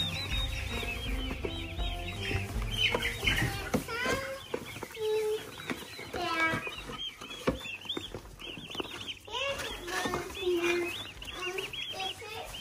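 Baby turkeys from a farm store give a busy chorus of high chirps and peeps, overlapping and close, with rustling and people talking in the background.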